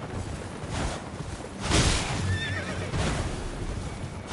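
A horse in a video game lets out a loud, shrill whinny over a constant rushing, noisy background, with faint hoof sounds and whooshes around it and no one speaking.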